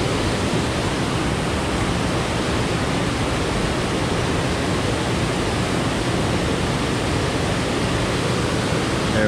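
Water pours over a waterfall below Center Hill Dam in a loud, dense, unbroken rush that fills the whole stretch with steady roaring noise and no voices.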